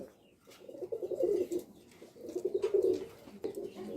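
A pair of almond-bloodline pouter pigeons coo nearby in two rolling, throaty bursts, with a quieter third starting at the end.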